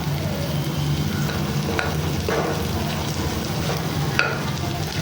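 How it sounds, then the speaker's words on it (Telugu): Egg frying in a pan for egg fried rice, stirred as it cooks: a steady close sizzle with occasional scraping clicks of the spatula, no voices. "ఎగ్ అనేది బాగా ఫ్రై అయిపోయింది"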